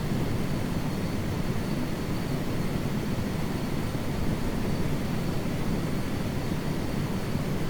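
Helicopter in Flight Simulator 2024, a steady dense rotor and turbine roar that stays constant and loud from start to end with no talk.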